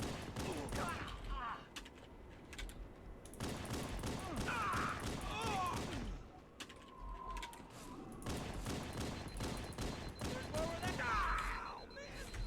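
Bursts of rapid gunfire in Halo: Combat Evolved recur across the clip, with sharp mechanical clicks and clatter between volleys, fairly loud throughout.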